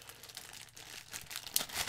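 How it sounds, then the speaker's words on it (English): Black plastic bag crinkling and rustling as it is opened, brief soft scratchy crackles up close, with a couple of sharper crinkles toward the end. "And we got a black plastic bag."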